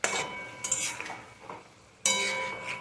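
Masala being stirred and fried in a pan with a spatula, bursts of scraping and clinking against the metal between quieter sizzling pauses.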